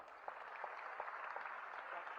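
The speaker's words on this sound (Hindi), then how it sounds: "जो ईर्ष्या नहीं कर रहे हैं वो तालियां बजाइएगा" An audience claps for honored athletes at a ceremony, giving a faint, distant wash of applause with a few sharper hand claps.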